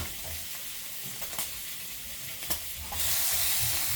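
Liver steaks fry in a pan with a steady sizzle, broken by a few light stirring clinks, before a louder, hissing burst of frying near the end.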